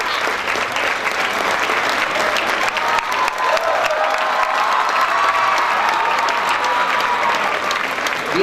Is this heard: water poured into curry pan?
no